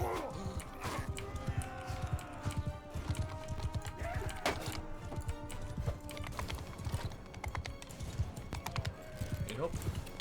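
Cavalry horses gallop across a Mount & Blade II: Bannerlord video game battlefield, hooves drumming in rapid irregular clusters with occasional whinnies, while a player shouts and talks over the action.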